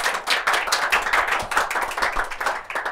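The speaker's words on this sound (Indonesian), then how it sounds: "Oke, tepuk tangan teman-teman." A small group claps together during a podcast recording, producing brisk, uneven rhythmic clapping at close range with no talking.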